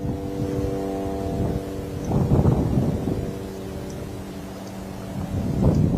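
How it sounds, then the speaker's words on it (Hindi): A surveillance UAV drone flies unseen overhead, a steady multi-tone mechanical drone hum that persists throughout, swelling slightly at moments under wind noise. "आसमान में यहाँ पर सर्विलांस के लिए यूएवी ड्रोन अक्सर देखिए वो यहाँ पर उड़ते रहते हैं"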